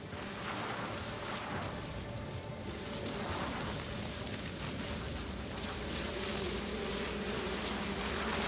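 Waspito creatures in the video game The Outer Worlds, a dense, continuous buzzing drone mixed with crackling noise, steady and loud throughout.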